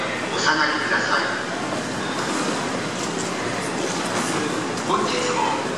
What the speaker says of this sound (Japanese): まもなく4番線に列車が入ります。